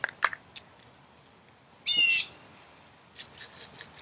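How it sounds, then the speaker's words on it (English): A bird squawks in a video game, a harsh, loud burst of about a third of a second, set among scattered short chirps and clicks plus a faint, busy run of calls near the end. "The bird is back."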